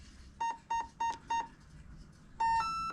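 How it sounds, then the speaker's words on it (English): A ZTW 200A speed controller for a Proboat Supersonicwake beeps as it is programmed: four short, evenly spaced electronic tones, a pause, then a longer two-pitch tone, clear and close in a quiet room. "just hold it flat, power it up, hopefully we get some beeps."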